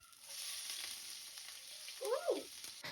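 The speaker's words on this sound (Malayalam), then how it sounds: "ഗ്യാസ് ഓണാക്കി പാത്രം വെച്ച് ചൂടാകുമ്പോഴാണ് എണ്ണ ഒഴിക്കുന്നത്." Oil heats in a pan on a gas stove, giving a faint, steady hiss with a short crackling burst of sizzle near the end, heard alone without talk.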